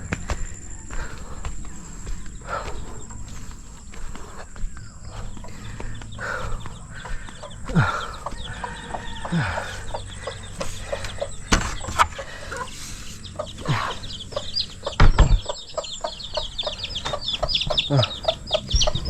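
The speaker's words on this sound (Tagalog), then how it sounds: "May season na naman yung aming manok oh." Chickens cluck and murmur close by in a steady, scattered chorus, with occasional footsteps, faint insects and a few louder squawks.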